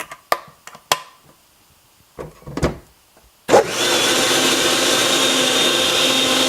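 Blender whirring sesame seeds into milk for raw sesame yogurt: a few sharp knocks and clatters first, then the motor kicks in abruptly and runs loud and steady with a rough churning roar.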